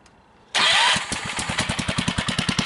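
Small engine on a berry picking machine cranks and fires, then settles into a loud, close, rapid rhythmic chugging idle after a brief burst of revving.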